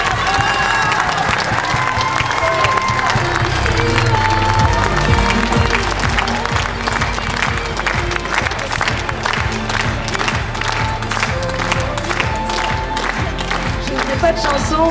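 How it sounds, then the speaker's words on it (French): Sustained audience applause with cheering at a children's superhero cabaret show, after writing, singing and theatre workshops, dense and loud throughout the whole stretch with crowd voices mixed in. "un tonnerre d'applaudissements pour Arnaud"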